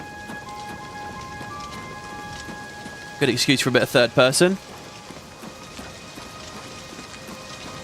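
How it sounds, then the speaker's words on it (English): Steady stormy rain falls across a night landscape in the video game Oblivion Remastered, a constant wash under faint ambient game tones, briefly interrupted by someone speaking near the middle. "Oh, God, it's raining."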